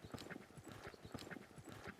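Horse hooves in a repeated three-beat clip-clop rhythm at counter canter, steady and moderately close, quiet overall with no talking.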